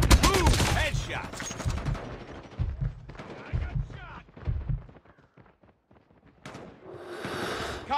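Rapid bursts of gunfire in the Call of Duty Mobile video game crack out in quick repeated volleys, loud at first and thinning out, with voices talking over parts of it.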